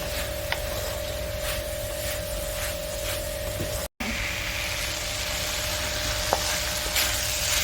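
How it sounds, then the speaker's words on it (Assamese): Ground spices, including cumin, coriander, turmeric and Kashmiri chili powder, are fried in a pan with a steady sizzle and occasional stirring scrapes throughout, with a brief dropout midway. "ইয়াতে দিছোঁ জালুকৰ গুড়ি, জিৰা ধনিয়া গুড়ি, লগতে হালধি, কাশ্মীৰী জলকীয়াৰ গুড়ি দি আমি এইখিনি অলপ ভুনি ল'ম"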